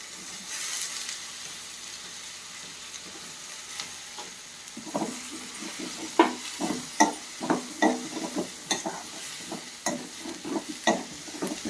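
Drumsticks and broad beans sauté in a pan with tomatoes for a tamarind curry. A quiet sizzle runs throughout, and from midway a ladle stirs in repeated scraping strokes close by.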